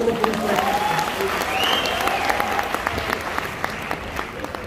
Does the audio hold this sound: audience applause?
yes